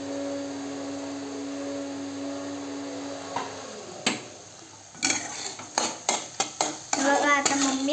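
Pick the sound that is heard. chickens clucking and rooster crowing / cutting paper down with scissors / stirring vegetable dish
stirring vegetable dish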